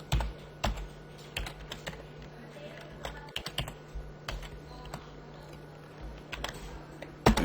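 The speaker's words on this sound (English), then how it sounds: "So I type in value error." Close, irregular clicks and taps on a computer keyboard while entering Python code, quiet keystrokes in uneven bursts with short pauses and a slightly louder key strike at the end.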